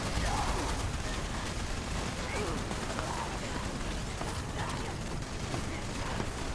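Rapid automatic gunfire in the Fallout 76 video game, a dense unbroken stream of shots as a full clip is emptied, steady and fairly loud throughout.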